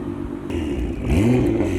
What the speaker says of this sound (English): Let's hear it from the GTR. Blower valve sounds mad.